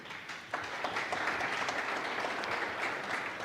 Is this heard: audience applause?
yes